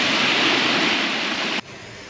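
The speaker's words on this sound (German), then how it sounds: "Und schlafe bei Meeresrauschen ein." Sea waves on the Danish coast make a loud, steady broadband rush of surf that suddenly drops to a quieter wash near the end.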